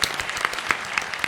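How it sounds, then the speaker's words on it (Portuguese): Audience applauds a publisher being introduced at a Portuguese comedy book event, a steady crowd clapping with sharp individual claps standing out, fairly close and alone without talk. "Palmas para ela"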